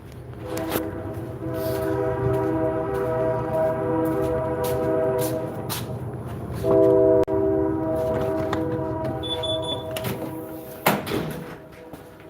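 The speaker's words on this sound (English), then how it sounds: "gotta love the trains, guys. You gotta love the trains." A train passes outdoors with long, loud sustained horn blasts repeated over several seconds, accompanied by rumbling and clanking of rail cars nearby.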